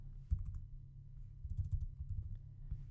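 Computer keyboard keys clicking in quick, faint bursts as text is copied, soft clustered keystrokes with short pauses, no voices.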